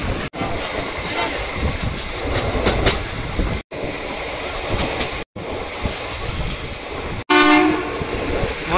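An Indian express train at Valsad railway station blasts a loud, sustained horn near the end, a bright harmonic tone over the heavy rumble and clatter of the moving train, broken by a few brief dropouts.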